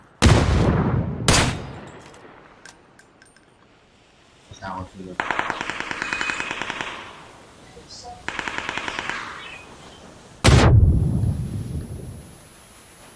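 Gunfire in PUBG during the PGC 2023 Grand Final: loud single booming shots early and late, with two sustained bursts of rapid automatic fire in the middle, and a voice speaks briefly.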